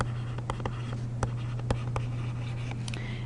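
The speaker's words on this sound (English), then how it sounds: "So let's write this down." Pen writing on paper, soft scratching strokes punctuated by sharp taps as letters are formed, close and fairly quiet over a steady low electrical hum.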